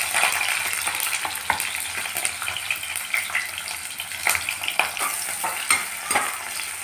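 Sliced onion and three green chillies crackle in two tablespoons of hot oil, a bright, steady sizzle close by with frequent stirring scrapes and ticks, no talking over it.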